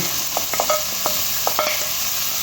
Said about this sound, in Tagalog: Yan mix mix lang natin siya guys hanggat magluto yan